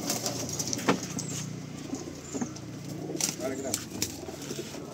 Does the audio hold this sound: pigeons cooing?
yes